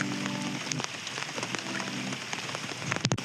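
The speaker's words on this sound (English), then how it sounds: "It's obviously raining." Rain falling steadily on water on a fishing trip, a close, dense patter of drops with a few sharper knocks near the end and no talk.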